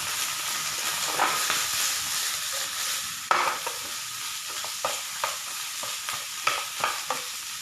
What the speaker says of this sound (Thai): จีผักอันนี้เอาไว้ก่อน ให้มันเกลี่ยมกันเลยนะคะ